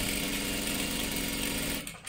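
A sewing machine runs a continuous line of double stitching on a salwar dress, a close, fast, even mechanical chatter that stops just before the end.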